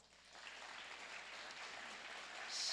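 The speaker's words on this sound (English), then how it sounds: "Let's give her a round of applause." An audience at a quantum computing lecture claps in a dense, steady patter that grows slightly louder toward the end, with no voices.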